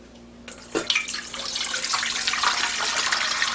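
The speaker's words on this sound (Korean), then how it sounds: "국물을 싹 따라내겠어요." Brine poured off salted radish for pickles, a steady splashing stream of liquid starting after a brief quiet moment and running continuously at close range.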